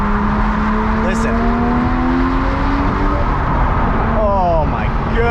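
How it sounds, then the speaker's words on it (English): A Porsche Speedster's exhaust drones loudly and without a break from inside the car as it drives, with its pitch rising, falling, then climbing again through a downshift. "You don't need the radio on in this car because all you care about is the exhaust noise."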